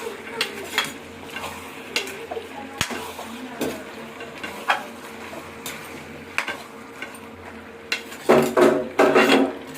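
Chicken curry stirred in a pot at home, with soft scraping taps in an irregular rhythm and a louder, busier clatter near the end; a voice speaks faintly now and then.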